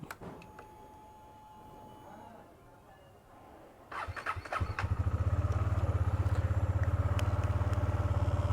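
A KTM Duke 250 Gen 2 motorcycle engine cranks with a few clattering attempts, then catches and settles into a loud, steady, close idle after about five seconds.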